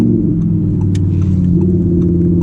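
An Audi R8 RWS with a V10 engine, driven in manual mode, gives a loud, close, steady low-pitched engine rumble that holds without break throughout, with no talk over it.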